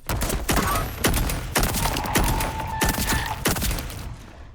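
Rapid gunfire with unlimited ammunition in the game Voidtrain: dense, overlapping shots burst steadily in quick succession under a continuous ringing layer, loud and close throughout.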